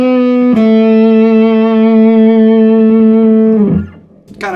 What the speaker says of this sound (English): all of a sudden I got all that sustain and distortion